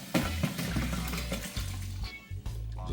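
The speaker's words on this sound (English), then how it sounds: "Drain the water off." Cooking water being poured off a pan of boiled chicken feet in a home kitchen, a steady close splashing gush of liquid with a few brief dips and surges as it drains.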